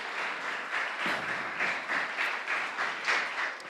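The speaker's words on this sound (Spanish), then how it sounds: "Ya que lo aplauden y se alegran" A church congregation applauds during a service, with steady, sustained clapping that fills the whole stretch, close and even, and only a few faint voices underneath.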